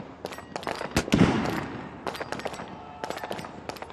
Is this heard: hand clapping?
no